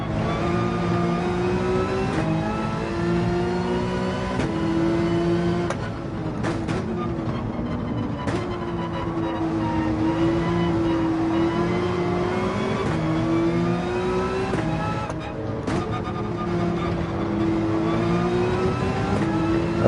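Lamborghini race car engines roar in a Gran Turismo 7 race, a continuous loud drone with engine pitch rising and falling as cars shift and accelerate, with faint talk underneath.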